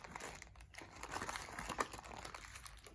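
Crinkly paper coffee filters are flattened by hand for a DIY bird toy, giving a steady, close, soft rustling and crumpling over a few seconds with small crackly peaks and no talking.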